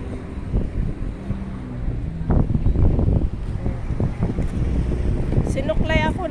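Sea wind gusts steadily across the microphone at an elevated lookout, a broad rushing roar running through the whole stretch, with a faint voice and scattered handling bumps beneath it.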